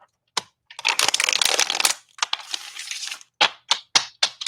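A tarot card deck is shuffled and cleansed by hand, with a long riffling burst of cards followed by several sharp separate taps and slaps of the deck, close and fairly loud, with no talking.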